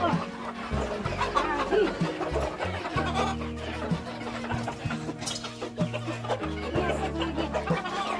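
Domestic chickens cluck repeatedly in a rural village household, mixed with other farmyard noise and intermittent talk throughout.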